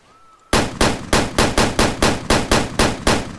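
An anti-aircraft gun mounted on a UTV in the hunting game Way of the Hunter fires a loud, close burst of about eleven heavy booming shots in an even rhythm, with no talk over it.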